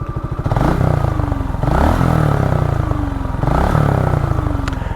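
Suzuki Gixxer air-cooled motorcycle engine fitted with new piston rings, running close by with a steady mechanical clatter and three brief throttle blips that rise and fall in pitch, no talking.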